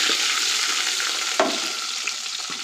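Mustard seeds fry in hot oil while being stirred, with a steady crackling sizzle up close, a few sharp scrapes and pops, and no talking.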